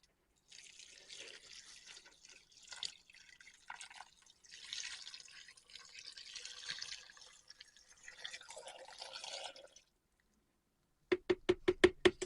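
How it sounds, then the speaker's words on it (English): Water streams steadily into a soap mold for several seconds with a soft, splashy hiss, then after a pause a quick run of sharp rhythmic clicks. "I am pouring my green tea live water right into my mold"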